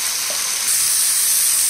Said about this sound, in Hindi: ऊपर से हम डाल रहे हैं ये पिसा हुआ टमाटर प्याज का पेस्ट